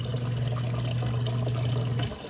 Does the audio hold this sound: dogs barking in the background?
no